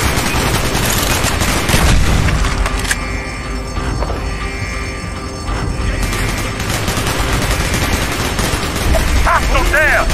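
Rapid bursts of video game gunfire in Call of Duty: Black Ops, heavy automatic shooting, loud and close, with booming impacts and brief pauses between volleys.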